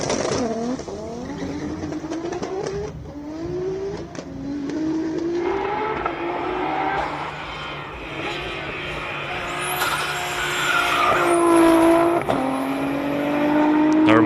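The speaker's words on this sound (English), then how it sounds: "Turbo sounding angry." A turbocharged race car climbing the Simola hill climb, its engine revving and rising through the gears with shifts, heard at some distance under a commentator's voice.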